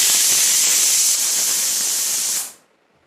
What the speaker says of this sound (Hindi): देखिए कुकर की सीटी बजनी शुरू हो गई है